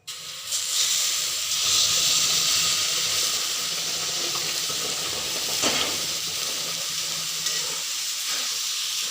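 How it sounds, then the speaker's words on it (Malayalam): Boiled water poured into a hot pan while making upma, raising a loud bubbling hiss and sizzle of steam that holds steady for several seconds and has no voices over it. "ഇനി തിളപ്പിച്ച് വെച്ച ഉണ്ട് ഇവിടെ അത് ഞാനിങ്ങനെ ഒഴിച്ചു കൊടുക്കണം"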